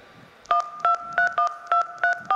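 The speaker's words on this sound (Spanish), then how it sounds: "Voy a llamar a Vera" Telephone keypad dialing on a borrowed cell phone, seven evenly spaced dual-tone beeps after a brief pause, clear and close with faint room noise between presses.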